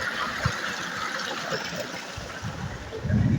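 Water from a motor-driven pump gushes and splashes steadily into a farm canal nearby, a continuous rushing flow with a bit of background murmur.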